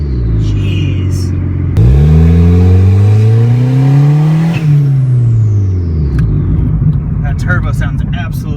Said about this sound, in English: That turbo sounds absolutely wonderful.